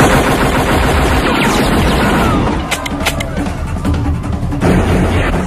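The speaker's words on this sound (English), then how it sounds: "So both Van Damme's men and Rourke's men start firing at each other." Gunfire in the action film Double Team, where two groups of armed men trade shots: loud, dense rapid automatic bursts and booms fill the scene, with a brief lull of sharper single cracks, under some speech.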